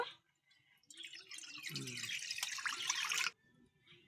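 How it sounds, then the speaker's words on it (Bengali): Water pours into a cooking pot on a lit stove, a bright splashing stream lasting a couple of seconds before it stops, with quiet drips before and after. "এখন জল দিয়ে দেব"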